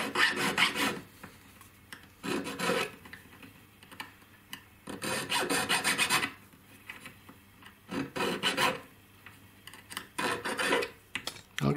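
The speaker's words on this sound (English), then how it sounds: "it just needs a bit more filing around to so that the very edge of the stone sits in" Rhythmic rasping of a hand file on a metal ring setting shaped for a cabochon stone, in close bursts of quick back-and-forth strokes separated by short pauses.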